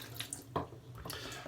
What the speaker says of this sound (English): I'm gonna pour the water out of the bowl.